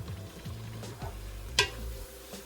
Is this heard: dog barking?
no